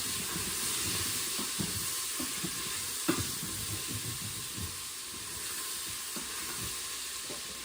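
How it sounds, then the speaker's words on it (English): Bacon and onions frying in a hot stainless steel pot: a steady sizzling hiss throughout, with soft scraping and tapping from stirring scattered across it, close and moderately loud with no speech. "Time to stir the bacon and onions"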